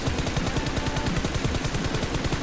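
Rapid automatic gunfire in PUBG Mobile, a steady stream of loud, evenly spaced shots fired in one continuous burst with no pauses.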